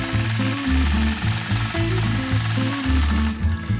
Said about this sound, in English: So I'll use light pressure, engage my machine, and stitch across the block.